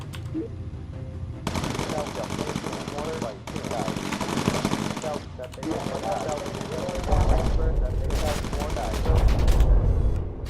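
A belt-fed machine gun fires long, loud, sustained bursts with brief pauses, and voices talk underneath the firing.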